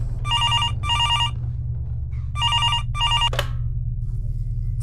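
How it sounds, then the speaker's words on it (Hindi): A telephone rings in a home in double bursts, two rings, a pause, then two more, clear and close over a steady low hum, ending with a sharp click. "अभी वो घर पहुंची ही थी कि उसका फोन बजा।"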